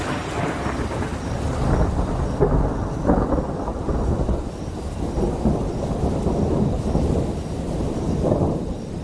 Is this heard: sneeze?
no